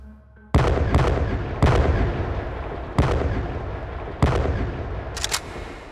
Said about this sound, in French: Cinq coups de feu retentissent dans la nuit.